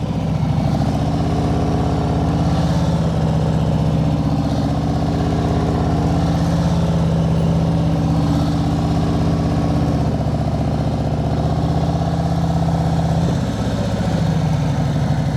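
Motorcycle engine holding a steady throttle on an uphill practice ride, a loud, close, continuous mid-pitched drone that barely changes pitch, with wind rush and a brief dip near the end.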